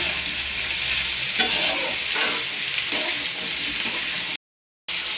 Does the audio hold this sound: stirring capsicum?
yes